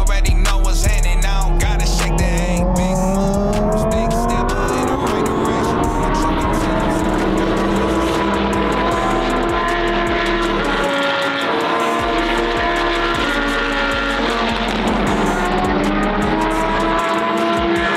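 Race car engines on a practice track with fresh tires, a loud continuous roar with rising and falling pitch as cars accelerate and pass, dense and close throughout with a brief dip near the middle.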